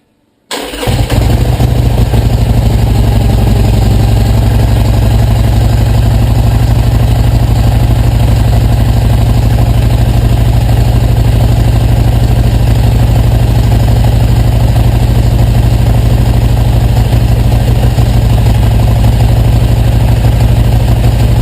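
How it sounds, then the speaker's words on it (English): A Harley-Davidson Iron 883 with stock mufflers, parked in a garage, fires up from cold after a brief silence and settles into a loud, steady, deep idle that runs on without a break. "So anyway, we'll do a cold start here first."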